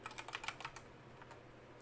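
A password is typed on a computer keyboard: a quick burst of light, close key clicks followed by a few sparse, fainter taps in an otherwise quiet room.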